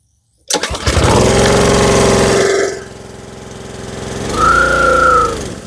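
A Honda GCV 190 engine on a pressure washer, after storage, starts with a quick cough and then runs loud and steady on choke. Its pitch drops after a couple of seconds, then it revs briefly back up near the end.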